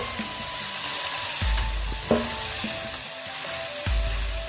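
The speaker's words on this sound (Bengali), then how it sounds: "আলুটা দিয়ে এখন কষাবো" Potatoes and pieces of fish sautéing with spices in a pan give a steady close sizzle, punctuated by several sharp scraping knocks of a spatula against the pan.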